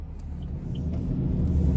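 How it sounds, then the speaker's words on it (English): Steady low road rumble inside a 2024 Chevy Express 2500 low-top conversion van driving on the road, a constant cabin drone without talking. "So starting the test drive in this Express low top van, a very, very nice ride here overall."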